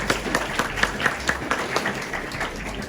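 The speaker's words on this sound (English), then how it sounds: "Let us welcome Dr. Safiya with a big round of applause" Audience applause welcoming a doctor as guest speaker at an addiction awareness talk at a hospital, a fairly quiet, moderate patter of clapping hands with a low background hum, fading slightly toward the end.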